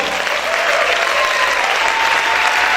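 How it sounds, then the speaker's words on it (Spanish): A church congregation claps loudly and continuously during a worship service, a dense, even wall of applause from many people that holds at full volume throughout. "Aplaude fuerte al Señor."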